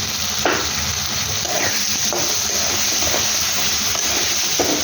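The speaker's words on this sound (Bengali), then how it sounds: "এরপরে এখানে ভেজে রাখা আলুগুলো দিয়ে দেবো" Fried potatoes stirred into a sizzling maha shol fish curry in a hot pan: a loud, continuous frying hiss with periodic scraping strokes of a spoon, close up and uninterrupted by talk.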